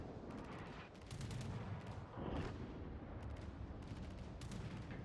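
A naval warship video game plays booming salvos of ship gunfire that roll continuously, with a heavier blast near the middle and a dense, rumbling battle din throughout.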